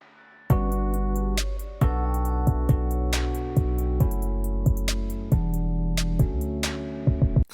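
Beat built from a soft, attack-less kalimba melody, sharp claps and a filtered hi-hat, looping steadily with a deep low end and crisp percussive hits throughout.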